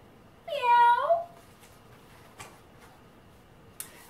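A single clear cat meow, drawn out and close, followed by quiet with a couple of faint clicks.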